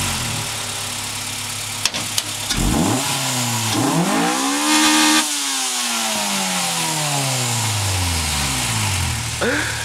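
A car engine revs hard up to its rev limiter, pitch sweeping up and bouncing at the cutoff before falling back, then climbing again; loud and close, with a sharp click or two early on.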